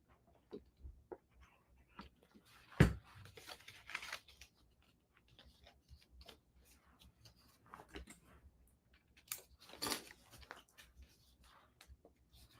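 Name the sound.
scissors trimming paper for a 3D card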